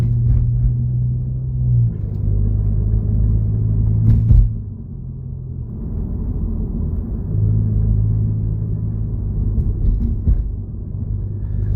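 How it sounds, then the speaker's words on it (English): An Alfa Romeo Giulia Quadrifoglio drives along, heard as a deep steady cabin rumble whose engine tone drops and climbs again at gear shifts, with no talking. "It's just shifting gears like it's nobody's business."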